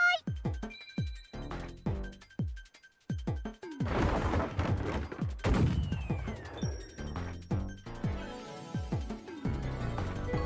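Game effects from Master Detective Archives: Rain Code as I-beams are fired: a rapid series of sharp metallic hits and crashes with ringing tones and a zinging sweep, dense and loud, with no voices over them.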